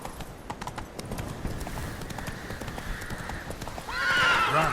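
Roach, the horse in the video game The Witcher 3, gallops with steady rhythmic hoofbeats that build into a loud whinny near the end, set against a low game soundscape.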